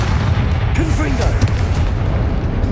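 A Confringo spell blast exploding during a duel in Hogwarts Legacy, a booming burst under a busy game soundscape of crackling effects and whooshes.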